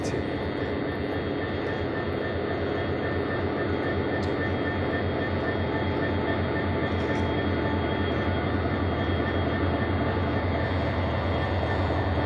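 A local train, the first of the morning, runs through Nakhra station as a steady loud rumble of wheels and carriages, continuous and close throughout with no voices.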